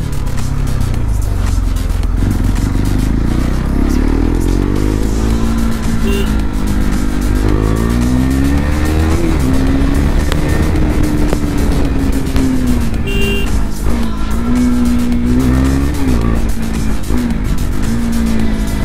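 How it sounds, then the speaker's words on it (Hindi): A KTM RC 390 motorcycle exhaust revs loudly and up close, the engine note climbing and falling through repeated throttle blips over a steady rumbling idle. "एग्जॉस्ट का असली फील आ रहा है इस बाइक में।"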